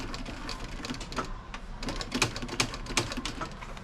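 Sewing machine stitching upholstery for the seat of a 1978 Ford F100, a close, busy rattle of rapid needle strokes with uneven bursts and short pauses as the fabric is fed through.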